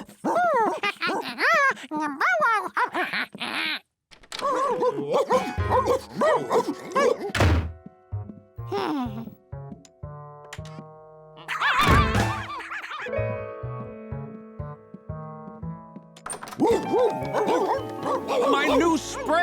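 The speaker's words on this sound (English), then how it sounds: "George, there are like 20 dogs in here" A crowd of cartoon dogs in a Curious George episode bark and yip in bursts around a house, mixed with thumps, music and characters talking over the commotion.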